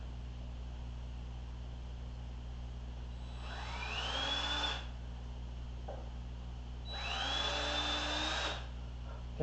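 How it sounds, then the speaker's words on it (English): A power drill bores holes into wood for a workshop bench assembly, two separate whirring bursts of a few seconds each rising over a steady background hum, with a pause between them. "Can't drill the holes that deep or else I'll go right through the wood."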